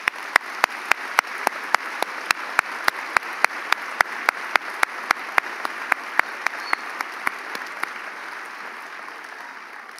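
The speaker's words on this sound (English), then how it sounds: "Let's give them a round of applause" A high school graduation crowd applauds steadily as a broad wash of many hands, with one nearby clapper striking sharp, rhythmic claps on top that stop near the eighth second while the crowd applause carries on.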